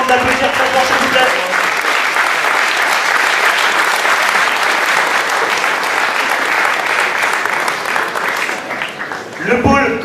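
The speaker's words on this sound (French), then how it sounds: "Iriti Riaz, Nassar Anil et Basram Nadia que je vous demande d'applaudir très fort s'il vous plaît" Loud, sustained applause from a large audience at a Paris tournament event honouring the organising team, dense clapping filling the hall for about nine seconds before tapering off.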